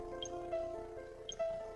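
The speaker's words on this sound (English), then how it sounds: "There's water dripping into the room from several places." Water drips from a leaking roof into a room in the video game Reel Fishing: Master's Challenge, two soft, isolated drops about a second apart over a quiet, hushed background.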